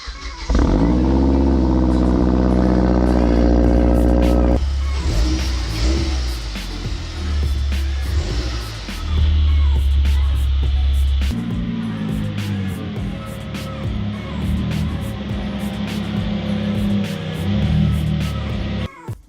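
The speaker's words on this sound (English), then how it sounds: "this car actually has a very loud power steering pump" A Hyundai Genesis running close by with a loud, whining power steering pump drone that shifts in pitch as the engine revs, steady throughout.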